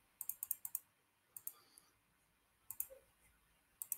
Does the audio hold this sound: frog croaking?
no